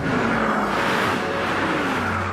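Mercedes Brabus car accelerating hard at high speed, a loud, continuous engine roar with rising and shifting tones and heavy wind and road noise, with no voices.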